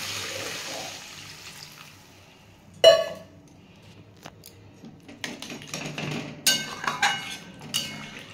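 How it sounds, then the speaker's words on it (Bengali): Water poured into a pot of sautéed lentils and potatoes: a short, loud splash, then scattered metallic clinks and scrapes of utensils against the cookware, close by. "আমি এবার জল ঢেলে দেবো।"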